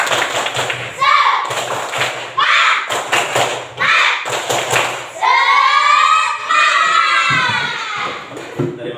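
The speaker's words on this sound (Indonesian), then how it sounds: "Tepuk semangat." A class of children doing the 'tepuk semangat' chant, loud and close: rhythmic bursts of unison clapping alternating with chanted voices, ending in a long shouted cheer, then a few more claps.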